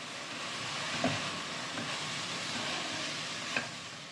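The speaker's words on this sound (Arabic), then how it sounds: "رح أحط زنجبيل وراح قليه على النار، طبعا النار عالية." Spiced ginger frying in a pan over high heat with paprika, a steady broadband sizzle filling the scene, with a couple of faint clicks from stirring and no talking.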